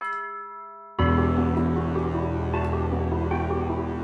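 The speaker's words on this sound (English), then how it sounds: "go to number 14, which is tubular bells" A synthesized tubular bells note from a Purity plugin preset strikes loudly after a fading tone and rings on as a bright metallic chime with a long, steady sustain.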